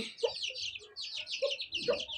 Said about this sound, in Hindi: मुर्गी भी चेक करें, बिल्कुल साफ़ हो गई है यार